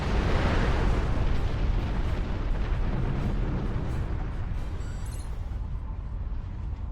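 Heavy ship cannon fire in Star Trek Online, a dense rumbling barrage of blasts that starts loud and slowly tapers off over several seconds with no talk.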